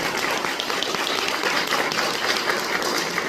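Wedding guests clap in a steady, continuous burst of applause, fairly loud and close, holding even from start to finish.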